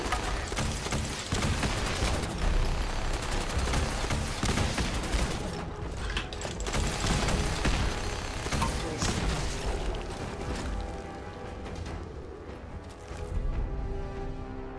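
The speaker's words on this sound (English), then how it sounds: "Missile launcher" A missile launcher fires repeatedly in Fallout 4, a dense barrage of booms and blasts layered into continuous loud, rumbling combat noise that thins slightly toward the end.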